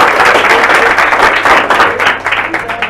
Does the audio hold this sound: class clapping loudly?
yes